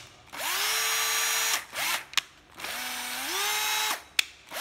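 Used Japanese 7.2V cordless drill running in two long bursts, a steady high whir that rises in pitch as it spins up, with sharp clicks between runs, close and loud, no talk.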